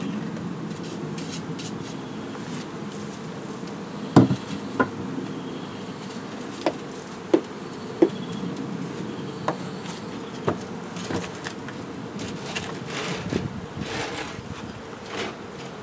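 Honeybees buzz steadily around a hobby beekeeper's hive with a landing board, a continuous droning hum punctuated by a few sharp clicks and knocks, with no voices.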